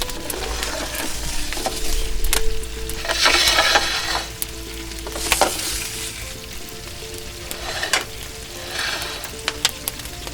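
Meatballs sizzle in pans of pomodoro sauce inside a wood-fired oven, a loud continuous frying crackle with bursts of spitting and stirring scrapes, close and steady.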